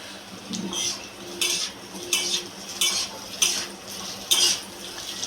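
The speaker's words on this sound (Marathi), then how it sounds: "हे आपण टाकू याच्यात चांगले थोडं ब्राऊन गुलाबी रंग येतात चांगले भाजून घे त्याला" Onion and coconut being roasted in a pan for a Maharashtrian masala curry, heard as a regular run of sharp metal spoon scrapes and clinks against the pan, close and fairly loud, over a low background hiss, with no voices.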